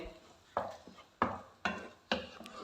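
Garlic and egg mixture being stirred in a pan, with four distinct scraping, clinking strokes spaced roughly half a second apart, close and fairly loud, with no talk over them.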